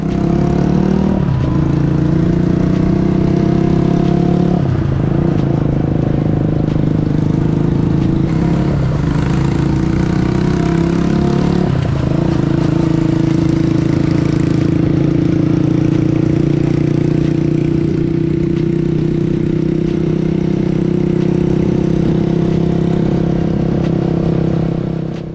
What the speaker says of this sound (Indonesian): motor di belakang ini, GPX Gentleman 200cc